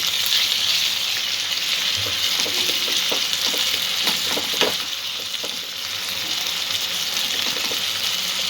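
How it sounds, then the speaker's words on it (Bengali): Chopped tomatoes fry in a pan with a continuous loud sizzle, while occasional soft scrapes and taps of stirring rise above it, close and steady throughout. "আরও একটু কিছুক্ষণ টমেটোটা সফট হওয়া পর্যন্ত নাড়াচাড়া করবো।"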